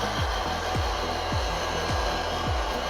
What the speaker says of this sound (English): Get your heat gun, or your hairdryer.